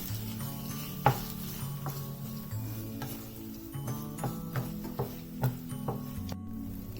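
Ginger-garlic paste sautéing in a pan produces a soft, continuous sizzle with a low steady hum and a string of light spatula taps and clicks at uneven intervals, fairly quiet and without speech.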